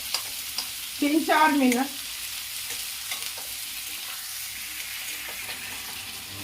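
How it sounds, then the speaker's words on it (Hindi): Black chickpeas frying in a pan over a medium flame, a constant close sizzle with light stirring, and someone speaks briefly near the start. "गैस को मीडियम फ्लेम पर कर देती हूँ। इसे अच्छी तरह भून लेती हूँ"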